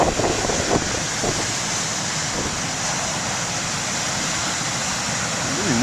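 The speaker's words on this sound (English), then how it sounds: "Oh, yeah, nice waves." Waves break continuously along the lighthouse beach at BTL, a loud, unbroken wash of surf mixed with some wind rumble, and faint traces of a voice come through briefly near the start.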